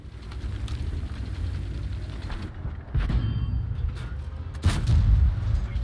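A tank shell bounces off armor in World of Tanks, on a city map with a T26E5: booming, muffled impacts over a rumbling low battle din, with one heavy hit near the middle and another late.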